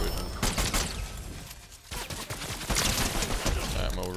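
Pistol gunfire in the Fortnite Zero Builds video game, rendered as rapid bursts of close, loud shots in quick succession with a short lull in the middle, over dense game noise.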